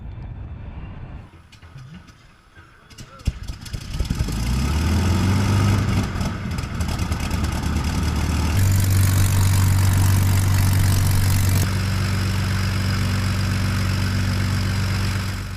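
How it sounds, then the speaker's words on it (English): A restored de Havilland Mosquito has its engines run up: after a quiet start with clicks, the engines catch and settle into a loud, steady piston drone with strong harmonic hum, shifting pitch as power is changed. "Once it's installed, both engines can be run up."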